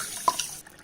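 About one and a half cups of water poured from close by onto sugar to make a syrup, a brief splashing trickle under a second long with no talk.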